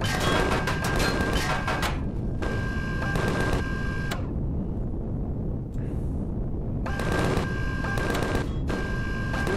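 Minigun fire in the space-survival game Empyrion, loud sustained rattling bursts of several seconds each, broken by short pauses, up close and dominating the scene.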